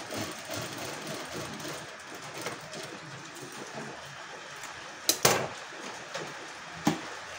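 A sewing machine stitches with a steady, moderately quiet whirring hum during neckline sewing practice, broken by a few sharp clacks near the end.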